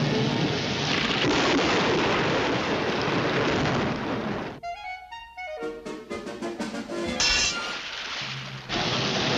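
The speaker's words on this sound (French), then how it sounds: "Vous avez déclenché un tel orage sur la maison de ce chien qu'il ne sortira pas de ses lits pendant une semaine." An artificial thunderstorm in a Road Runner cartoon, with loud dense rain and rumbling thunder that breaks off into a stretch of quieter cartoon effects before the downpour returns.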